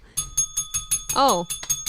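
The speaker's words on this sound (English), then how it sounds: "while I was ringing the bell" A small bell rings in a rapid, even series of bright metallic dings, close and loud, with a brief voice sounding over the middle strikes.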